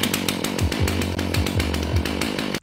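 A Stihl 500i chainsaw runs loud and close after being started by dropping the pull cord, its engine roaring with a few quick revving surges before cutting off abruptly at the end, no voices.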